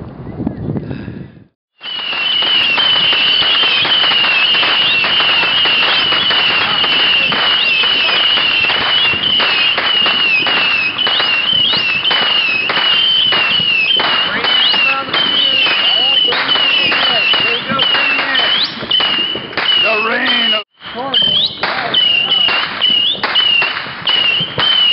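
New Year fireworks going off in a dense, continuous barrage of loud crackling bangs that runs almost unbroken for over twenty seconds, with a steady high whistling tone riding over the explosions and a brief pause near the end.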